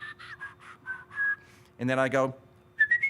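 A man whistles with his tongue and nearly closed lips: several short, warbling whistled notes, a brief spoken line, then another quick whistled phrase, close and clear.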